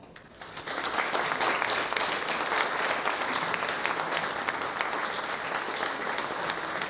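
An audience at a fundraiser event applauds to welcome a speaker, steady sustained clapping from a sizable crowd swelling in after a brief quiet start and holding full for several seconds.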